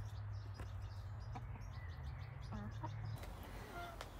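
Hens on a homestead cluck softly in short scattered calls over a steady low background hum, with a few faint chirps mixed in.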